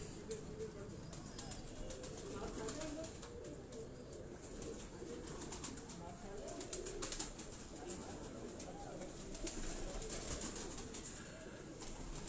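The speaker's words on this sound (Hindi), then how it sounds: "वहाँ भी परवाजी कबूतर हैं उनके" Parwazi flying pigeons and teddy pigeons in a backyard loft coo softly over a busy background hum, with low voices faintly audible in the mix.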